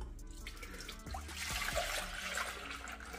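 Milk poured into a pot for a custard sauce for butter roll, a steady liquid stream rising into a fuller gurgling pour, with a few soft knocks against the pot.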